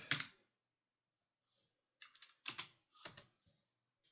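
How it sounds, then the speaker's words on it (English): Typing on a computer keyboard, entering a password into a Python GUI login field: short bursts of crisp key clicks separated by brief pauses, close and quiet with no talking. "So I'm going to type in subscribe"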